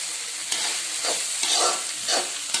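Vegetables tipped into a hot pan and stirred, a steady loud sizzle of frying with scraping strokes and several short clinks, no voices.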